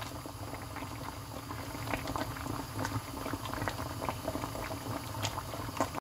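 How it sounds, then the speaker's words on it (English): Water bubbles at a steady rolling boil while heating a Russian VV MVD 24-hour ration pack, a dense continuous patter of small pops close to the microphone. "so that's bubbling away nicely"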